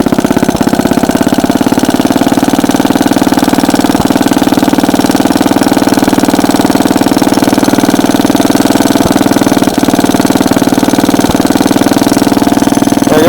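A 1950s Bready walk-behind tractor engine idles after a cold start, a loud, steady, close single-cylinder chug with an even rapid rhythm and occasional sharp ticks.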